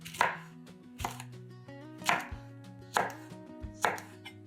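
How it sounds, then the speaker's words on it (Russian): A hot pepper being sliced into rings with a knife on a cutting board for pickling, five evenly spaced crisp chops, close and clear. "Один острый перец нарезаем кружочками."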